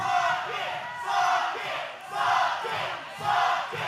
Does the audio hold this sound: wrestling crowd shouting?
yes